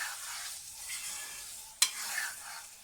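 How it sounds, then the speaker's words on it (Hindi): Pumpkin, egg and chopped green chillies frying over a high flame, a soft hissing sizzle with one sharp clack of a spoon against the pan partway through. "अब इसको हम अच्छी तरह से भून लेंगे।"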